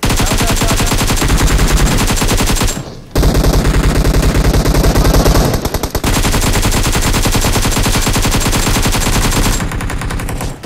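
Sustained, very loud automatic gunfire in a PUBG/BGMI squad fight, dense overlapping rapid shots almost nonstop with brief breaks, close and dominant with no talking.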